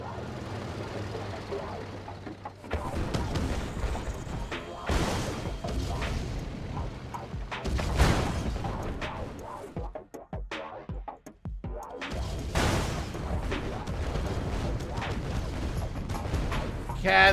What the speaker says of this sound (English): Cannons from everywhere